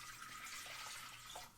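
Water poured from a tap into a saucepan for elderberry syrup, a steady hissing splash with no talk.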